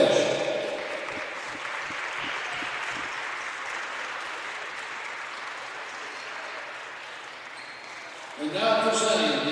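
A crowd applauds the runner-up team at a women's college basketball conference championship, steady clapping echoing through the arena for several seconds before an announcer's amplified voice cuts in near the end.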